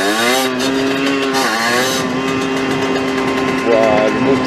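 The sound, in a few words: 50cc moped engine roaring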